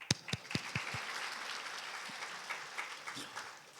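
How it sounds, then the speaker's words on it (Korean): Scattered applause from a church congregation at a Sunday worship service: a few sharp, close, loud claps at the start, then a softer, thinner patter of clapping continuing quietly in the room. "박수"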